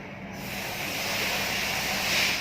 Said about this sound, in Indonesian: untuk membersihkannya dengan mudah, kita siram dengan menggunakan air panas